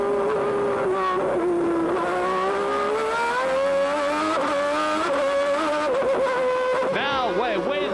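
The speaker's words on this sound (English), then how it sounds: "we bring you the sounds of the 1991 Formula One Grand Prix at Interlagos" Onboard Formula One car engine at the 1991 Interlagos Grand Prix, a loud, continuous high-revving wail rising and falling through gear changes, with a brief burst of warbling pitch near the end.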